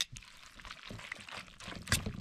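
Beaten egg poured into hot pasta in a pan over a campfire, a soft wet pouring and sizzling sound at close range with no talking.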